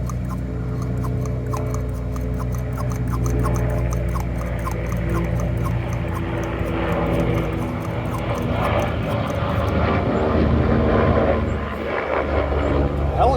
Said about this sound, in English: A helicopter coming through.